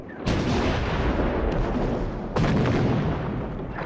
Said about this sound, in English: The heavy artillery made the Bulgarians crawl deep into their shelters.